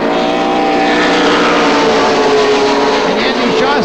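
Stock cars racing at Oxford Plains Speedway, a loud continuous roar of engines with shifting pitch as cars pass, overlaid by a speaking voice.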